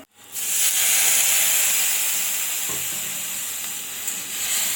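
Cumin and ginger hitting hot oil, bursting into a loud, close, continuous sizzle that settles into a steady hiss.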